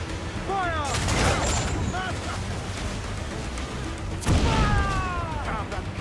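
Ship cannons firing in Assassin's Creed 4 Black Flag, loud booming volleys at the start and again later, with crackling debris and shouted voices between the blasts.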